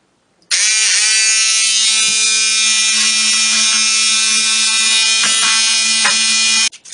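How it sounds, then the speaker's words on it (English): An electric detail sander buzzes continuously on wooden seahorse cutouts, a loud, steady high-pitched whine that starts abruptly and runs for several seconds with slight dips as the pad presses the wood, then cuts off. "I start the sanding process using an electric detail sander"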